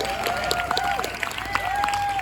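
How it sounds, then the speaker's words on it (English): An audience applauds a Hawaiian musician at a Waikiki performance, with brisk clapping, a few whistles and a voice cutting through the crowd noise. "One more time, please, a nice round of applause for one of Hawaii's treasures right here"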